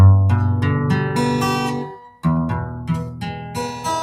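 Strummed acoustic guitar chords ring out clearly, several full strums in a row with rich sustained strings, close and fairly loud with no voices.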